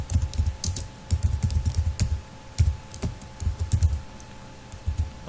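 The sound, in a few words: typing Java code on a computer keyboard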